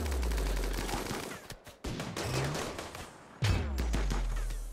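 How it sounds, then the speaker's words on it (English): A minigun and other guns fire during a desert raid in the Rimworld colony game, with dense, continuous rattling bursts that briefly drop out before resuming loudly. "Alistair has of course gone back to the minigun."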